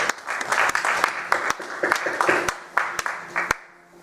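A church congregation claps and cheers for the Lord, a loud burst of applause with sharp individual claps standing out, fading toward the end.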